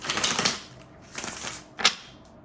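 Quick papery riffling bursts, three short shuffles close by, with brief pauses between them.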